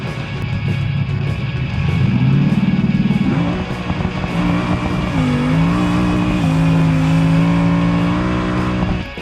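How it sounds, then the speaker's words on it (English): A twin-turbo Bruckell Bastion drag car races in BeamNG, its engine roaring loud and close as it revs up and climbs through several gear changes over a run of nearly ten seconds, with no talk. "here comes the twin turbo Bruckell Bastion"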